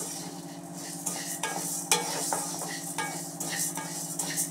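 Coriander seeds roast in a dry pan, a soft continuous crackle and sizzle with light, irregular scraping and ticking from stirring, close and fairly quiet, no voices.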